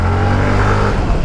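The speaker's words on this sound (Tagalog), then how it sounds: "Rinig nyo ba yung makina?" Yamaha Mio Gear 125 scooter engine running steadily during a ride through a subdivision, a loud continuous drone with no talk over it.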